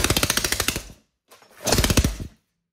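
A 3D printed 180cc single-cylinder engine firing in two short bursts of rapid, loud, evenly spaced pops, close by, with a brief silence between them.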